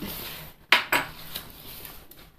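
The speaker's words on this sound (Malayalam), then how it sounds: "നന്നായിട്ട് മിക്സ് ചെയ്യണം, അല്ലെങ്കിൽ അടിയിലേക്ക് അതിൻ്റെ ഉപ്പ് തരി കിടക്കും." A spoon scrapes and clinks against a vessel while salt is stirred into palappam batter, two sharp close knocks followed by softer scraping.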